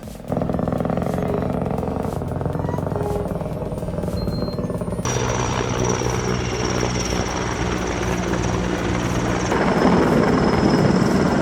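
A Canadian Air Crane helicopter working on heli-logging throbs loudly and steadily, its rotor and turbine roar close and continuous, shifting in tone partway through as it maneuvers.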